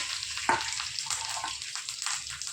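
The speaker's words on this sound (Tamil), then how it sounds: "கொஞ்சம் கடுகு போட்டுக்கிறேன் கொஞ்சம் ரெண்டு பருப்பு போட்டுக்கிறேன் கொஞ்சம் கருவேப்பிலை போட்டுக்கிறேன்" Mustard seeds, lentils and curry leaves spit and crackle in hot oil for tempering before steamed kozhukattai dumplings go in, a continuous close sizzle with scattered sharp pops.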